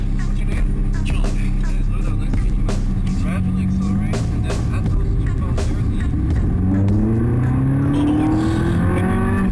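A Lamborghini or Ferrari supercar accelerates hard on a test track, its engine note climbing steadily through the gears, loud and close, with a voice talking over the continuous roar.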